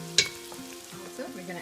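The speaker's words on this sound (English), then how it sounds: "they will release some of their flavors better together with onions while they're frying" Onions and chili powder fry in a pan for a turkey chili, a brief sharp clatter of stirring followed by a steady, moderate sizzle with no talking.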